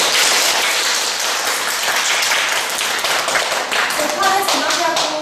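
Dense, sustained applause from a large audience at the final of a university debate tournament, steady clapping filling the space from start to finish.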